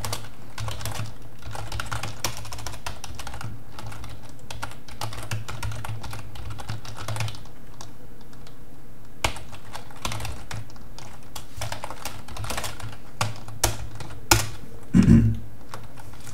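Close keystrokes on a computer keyboard as C# code is typed, an irregular stream of soft clicks with short pauses and a few louder taps near the end, no voices.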